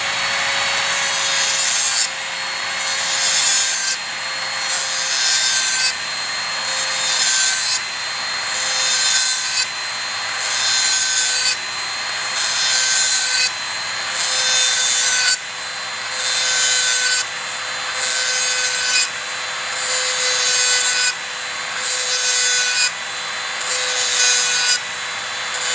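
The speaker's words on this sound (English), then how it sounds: "start up my little grinder on high and I take my time with it" A small grinder running on high sharpens garden pruner blades, a steady bright whine with a rhythmic rasping pulse as the blade is passed against it again and again, loud and close throughout.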